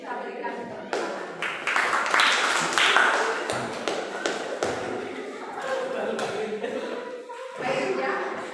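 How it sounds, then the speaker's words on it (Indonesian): A school class applauds a presenting group in a classroom, with dense, close clapping building quickly and sustained for several seconds, mixed with chatter and scattered taps, then a fresh burst near the end. "kita berikan tepuk tangan"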